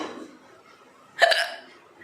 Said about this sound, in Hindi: मेरी हिचकी जो है ना वो बड़ी ज़ोर से आती है।